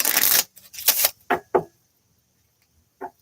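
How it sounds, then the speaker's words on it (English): Tarot cards being shuffled by hand, a few quick riffling bursts of papery flutter and slaps close to the microphone, separated by short pauses and ending with one brief final riffle. "One more shuffle."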